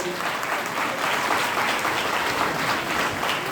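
Loud, sustained clapping from an audience at a community gathering in Navsari for a trust's get-together and notebook distribution event, a continuous wash of many hands with no talk over it.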